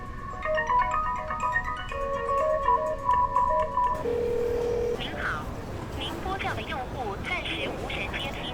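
A mobile phone rings unanswered in a repeating melodic ringtone at moderate level, cutting off after about four seconds into quieter room noise.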